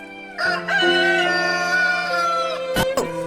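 A rooster crows once, loud and close, a long drawn-out call ending with a couple of sharp knocks.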